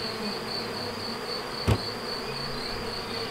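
Honey bees hum steadily around their hive in a beekeeper's first-year apiary, a continuous insect drone with one brief louder buzz as a bee passes close to the microphone.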